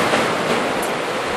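Ocean waves wash onto the rocky, sandy beach at Ceannabeinne in Scotland, a brief, loud, steady roar of surf.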